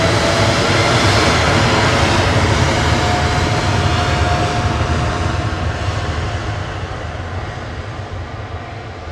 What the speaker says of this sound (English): Ethiopian 729 departing there to Addis Ababa via Geneva, 787-9 ETAUO.